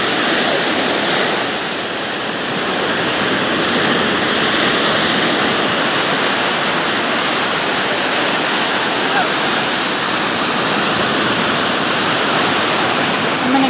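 Surf washing onto Pensacola Beach, where oil has come ashore, makes a steady, dense wash of breaking waves that continues without pause, near and fairly loud, with no talking.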